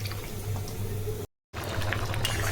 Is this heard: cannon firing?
no